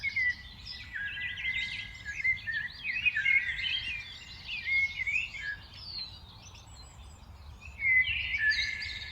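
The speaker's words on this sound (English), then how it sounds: "They're enjoying chirping, making beautiful sounds." Several species of birds chirp and sing together in a New Jersey park during evening hours, a continuous overlapping chorus of trills and tweets at moderate distance over low ambient hum.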